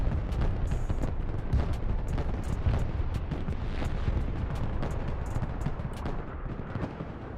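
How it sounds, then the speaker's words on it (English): Artillery creeping barrage in the video game Broken Arrow: continuous dense rolling explosions and gunfire, loud and unbroken throughout, with overlapping booms and crackling impacts. "Creeping barrage in between here."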